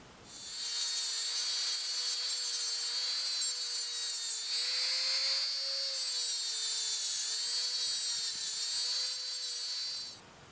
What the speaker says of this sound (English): I'm going to give my plastic abrasive wheels a try.